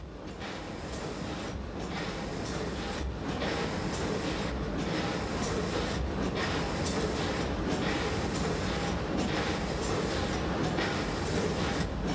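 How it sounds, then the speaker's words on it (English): Emmental Railway (EBT) train running steadily in Switzerland, a loud continuous rumble of wheels on track with rhythmic clicking over rail joints throughout. "the EBT carries you in comfort and style along the delightful Emmental Railway"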